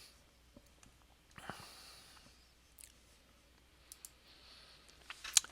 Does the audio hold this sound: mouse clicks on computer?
yes